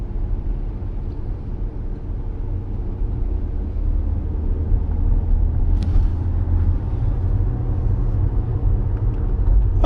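A Porsche Panamera e-hybrid running on its electric motors alone at night, heard from inside the cabin as a steady low road rumble and hum, with a faint brief click midway.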